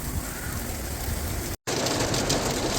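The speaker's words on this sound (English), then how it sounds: "We got hail." Hail falling during a thunderstorm: a dense, steady patter and hiss of stones striking a surface close by, broken once by a very brief dropout, with no voices.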